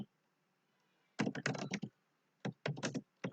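Typing on a computer keyboard while writing code, two short bursts of quick, close keystrokes separated by a brief pause, clear against an otherwise quiet room.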